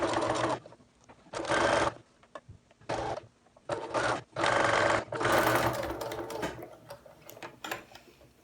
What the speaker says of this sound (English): I'm going to stitch along the wire across the top of the nose bridge of the mask